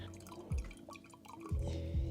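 Liquid indigo dye is poured into a container of water, giving a few soft splashes and drips over quiet room tone.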